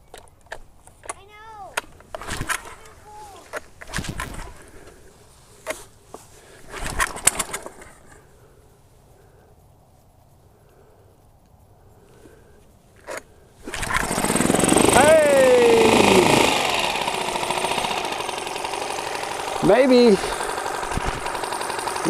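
A Mercury/Tohatsu 4-stroke outboard motor in the 4 to 6 HP range is pulled to start after carburetor cleaning; a few short starter pulls and sputters give way to a steady, loud running drone, with someone talking over it.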